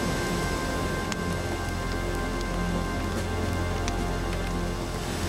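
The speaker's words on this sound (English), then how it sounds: "It's gonna rain, I felt it." Steady rain falls through the Nova Scotia woods, a dense even hiss of drops striking leaves and ground with no pauses and no voices.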